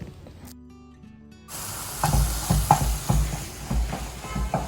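Ginger garlic paste frying with chicken pieces in a pan for a home-style chicken roast, a quiet start giving way to loud, steady sizzling broken by repeated scraping stirs.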